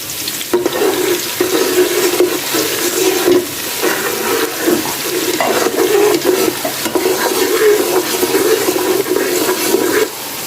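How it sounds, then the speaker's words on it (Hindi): Ginger garlic paste fries in a pan for mutton shalgam, a continuous loud sizzle with scraping stirring strokes throughout, close up and without speech. "अब हम अदरक लहसुन का पेस्ट ऐड करेंगे और इसको 4 से 5 मिनट के लिए पकने देंगे।"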